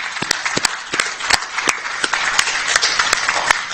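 Audience at a school results gathering gives a big hand clap, sharp individual claps scattered in a loose, uneven rhythm, fairly close and with no speech over it.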